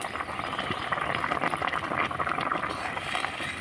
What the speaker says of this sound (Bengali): এবার আমি এইভাবে করে অনবরত নাড়াচাড়া করব।